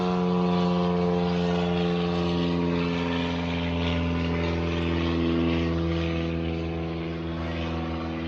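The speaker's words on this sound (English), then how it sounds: "Sorry guys, there's an airplane." A propeller airplane drones steadily overhead, a loud continuous hum with strong low tones that holds evenly throughout, with no voices.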